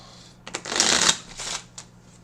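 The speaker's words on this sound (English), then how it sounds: "I have to shuffle the cards before I can play more." A single close riffle of a deck of playing cards shuffled by hand before a blackjack game, a quick crisp flutter lasting about a second with a few sharp taps around it.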